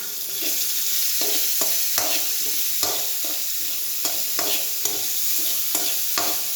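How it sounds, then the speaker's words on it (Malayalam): Sliced onions frying in oil in a pan for an okra and tomato curry, with a loud constant sizzle and regular stirring strokes about once per second. "നമുക്കിനി സവാള ഇട്ട് കൊടുക്കാം. നമുക്കൊന്ന് ഇളക്കാം."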